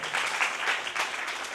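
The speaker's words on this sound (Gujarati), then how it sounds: "અશ્વિનભાઈ લોકાને એકવાર જોરદાર તાળીઓથી વધાવો" An audience at a Shrimad Bhagwat Katha religious discourse claps together, a moderate, steady burst of applause with slight swells, heard fairly close and without talk over it.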